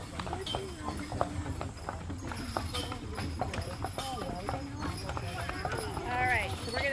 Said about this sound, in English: Let's listen to our horses.